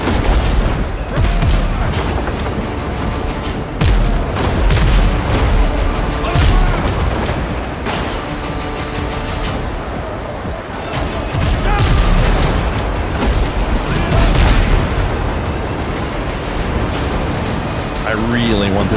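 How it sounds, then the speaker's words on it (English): Ship chase cannons firing in the Windrose naval video game, a dense run of loud booming shots and blasts over roughly twenty seconds with sea and battle noise, a voice talking over it. "The chase cannons."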